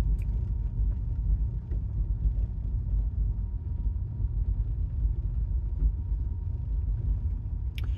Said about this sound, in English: Here comes a whole bunch of vehicles.